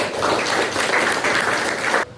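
Students in a classroom give a short, dense burst of applause that holds steady for about two seconds and then cuts off abruptly.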